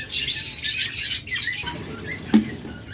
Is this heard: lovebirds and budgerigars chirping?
yes